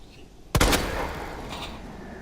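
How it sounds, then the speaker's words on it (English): A single sharp handgun shot fired at a zombie in the video game Resident Evil 2, a loud abrupt crack with a short decaying tail, alone after a quiet lead-in. "Do I shoot him with the handgun?"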